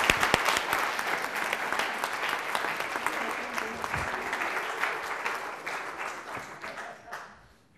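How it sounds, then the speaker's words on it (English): Dense applause from a lecture audience fills the room steadily at a loud, even level, with claps thick and continuous, then thins and fades away over the last second. "big round of applause for our friend Jacques."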